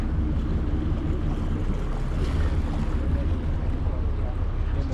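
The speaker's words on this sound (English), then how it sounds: "we are inside this really cool little water taxi, and we are now moving" A small water taxi ferrying passengers from Coronado under way, its engine drone and hull wash forming a loud, steady low rumble with splashing water and wind, while people talk faintly underneath.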